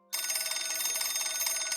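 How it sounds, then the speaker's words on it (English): A telephone rings in a visual novel game scene, a bright, steady electronic bell trill that starts abruptly and sustains at moderate level without any voices. "Just as our lips were about to touch, the phone rang."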